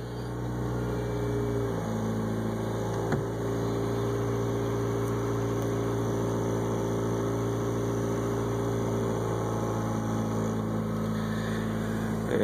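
A 1991 Honda CR-X Si running low on gas and idling just after starting, a steady, droning engine hum with a constant low rumble that holds even and unbroken throughout.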